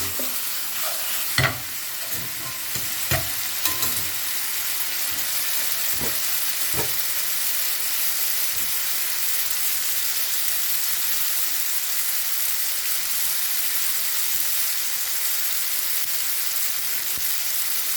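Spaghetti sizzles in a hot pan as it is tossed with chili garlic oil, a steady frying hiss broken early by a few scraping clanks of stirring.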